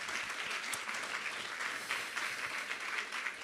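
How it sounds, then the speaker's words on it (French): Steady applause from a conference audience welcoming a speaker, a dense, continuous wash of clapping that holds evenly throughout with no voices on top. "Je vais demander au public présent ici même de bien vouloir se manifester par quelques applaudissements"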